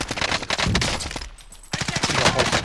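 Rapid automatic gunfire in Call of Duty: Modern Warfare rattles loudly in dense bursts, drops off briefly in the middle, then resumes just as hard.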